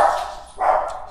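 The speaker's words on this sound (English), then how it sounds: "My dogs heard something at the door." Dogs bark sharply at a noise at the door indoors, two loud, close barks about half a second apart with no one speaking.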